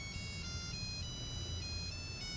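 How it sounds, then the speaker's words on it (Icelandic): A mobile phone ringtone plays a repeating electronic melody of bright tones in regular phrases, fairly faint against a low background rumble, with no one talking. "Það er sími að hringja."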